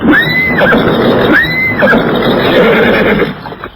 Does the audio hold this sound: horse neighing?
yes